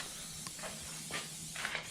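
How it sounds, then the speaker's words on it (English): Short, soft hissing bursts of an aerosol spray as SC1 high gloss coating is applied to the tires of a 2022 Polaris Ranger Northstar Ultimate, faint and close, several quick sprays with no talking. "Just simply spray it on."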